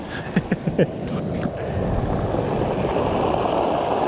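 Surf washing onto a beach in a long, steady rush after a few short knocks at the start, with wind buffeting the microphone throughout and no voices.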